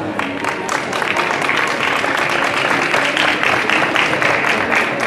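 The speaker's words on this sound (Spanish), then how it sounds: "así que un fuerte aplauso para ellos." Sustained audience applause fills a calisthenics exhibition, dense and steady throughout with a faint crowd murmur underneath.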